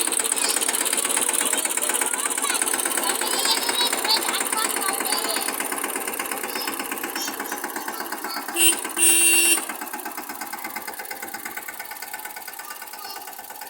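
A tractor engine runs steadily at close range with a rapid mechanical chatter, holding an even level throughout apart from a brief louder burst near the end, while people talk over it.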